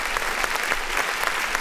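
Applause sound effect triggered by a clap button, a dense burst of crowd clapping and cheering, steady and fairly loud throughout its short span.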